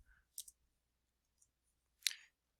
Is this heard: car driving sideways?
no